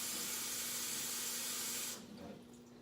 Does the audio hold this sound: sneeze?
no